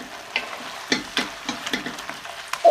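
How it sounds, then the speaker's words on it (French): A spoon stirs curry powder and sugar into a beef and beer stew, giving soft scraping and wet sizzling strokes in an irregular rhythm, close and fairly quiet, with no talking. "une cuillère à soupe de curry, une cuillère à soupe de sucre et on mélange"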